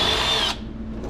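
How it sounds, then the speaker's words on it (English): A power drill spins a 35 mm hole saw cutting through the front of a panel on an MK2 GTI during a hydraulic clutch pedal conversion, a loud steady whine for about half a second before it stops and the motor sound drops away. "we're using a 35 millimeter hole saw. So we're gonna drill the hole through the front"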